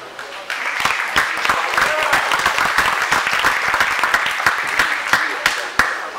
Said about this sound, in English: please give it up for Mr. Johnny Corn